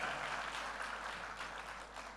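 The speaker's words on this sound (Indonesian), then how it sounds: "Beri tepuk tangan kepada saudara semua ya." A church congregation applauds with dense, continuous clapping that stays fairly even and somewhat distant throughout, with no one speaking over it.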